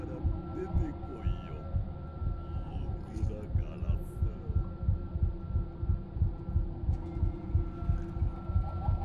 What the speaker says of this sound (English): See, I can hear the heartbeat getting faster.